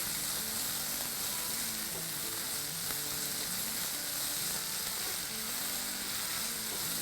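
Chopped breadfruit sautés in a pan for a thoran, giving a constant even sizzle that stays loud and unbroken from start to finish.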